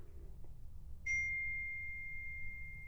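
A phone notification gives a single clear ding that rings on as a sustained pure tone, heard in a quiet room during an old house bathroom renovation.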